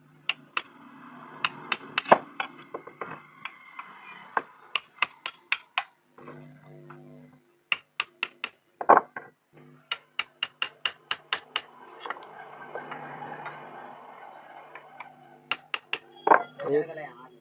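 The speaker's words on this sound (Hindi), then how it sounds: "इसको इस तरह से इधर से ठोक ठोक के निकाल लेना है।" A ceiling fan motor coil is knocked out with a hammer, sharp metallic blows coming in quick bursts of several strikes, separated by pauses and some low background noise, close and loud.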